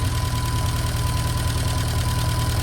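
Steady, rumbling engine idle of a 1952 Fordson E83W van fitted with electronic ignition, a low, even throb and a faint knocking pulse, close up and continuous with no talking.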